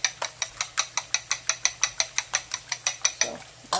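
Whisk clinking rapidly against a bowl while beating eggs for scrambled eggs, about four strokes per second in a steady rhythm of sharp metallic taps, close and clear with no talking.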